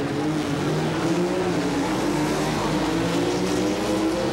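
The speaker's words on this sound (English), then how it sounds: "Clapp's car, a B dragster utilizing a Ford engine." Drag race launch at the 1977 NHRA Springnationals, a Ford-engined B dragster against a Ford 6-cylinder roadster, engines roaring loudly and continuously as they pull away down the strip.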